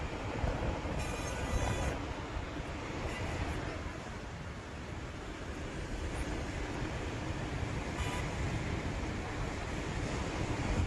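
Floodwaters rush through city streets in a broad, relentless roar, a dense churning wash that swells and eases slightly over several seconds, loud and continuous with brief splashy bursts and no voices.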